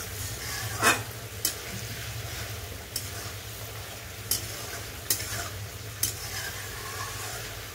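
Spice paste fries in a pan for a fish curry with eggplant, holding a constant sizzle under sharp, irregular scrapes and taps of a spatula against the pan, close and fairly loud, with no voices.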